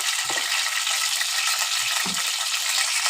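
Bitter gourd pieces fry in hot oil with a steady, dense sizzle and a few low thuds from pieces shifting or being stirred in the pan, with no voices.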